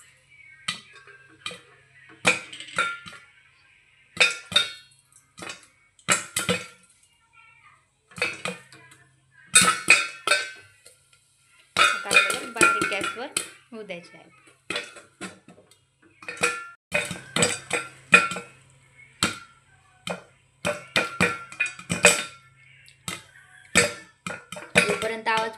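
Popcorn popping in a covered pot over low gas, a dense run of sharp pops and rattling kernels that keeps going steadily, close, with a brief spoken remark mixed in.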